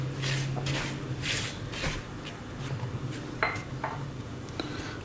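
Salt, sugar and yeast being mixed in a bowl for pizza dough, with repeated light clinks and scrapes of a spoon against the bowl in quick irregular bursts, close and fairly quiet.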